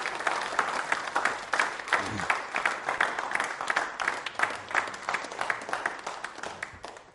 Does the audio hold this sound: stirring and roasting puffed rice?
no